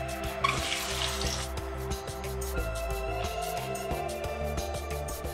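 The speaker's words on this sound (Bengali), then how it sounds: "এবারে একটা একটা করে ডিম এর ওপর ছেড়ে দেব।" Eggs slipped one at a time into hot refined oil in a kadai crackle and sizzle nearby, with a brief louder hiss near the start, under a steady low hum and regular faint clicks.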